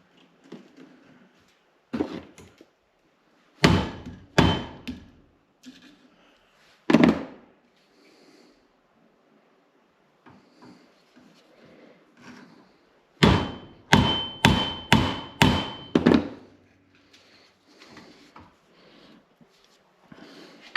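A hammer strikes rivets into the brake band of a 1927 Model T Speedster, braced over the front hub. Sharp, close metallic blows come singly at first, then in a quick run of five or six, with quiet gaps between.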